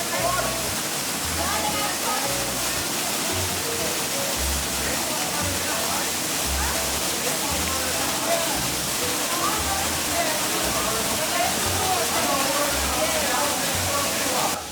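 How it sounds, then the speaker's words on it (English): A waterfall along a river hiking trail roars steadily and loudly for the whole stretch, a dense unbroken rush of falling water with low wind buffeting underneath. "Okay, so I'm back at the first waterfall."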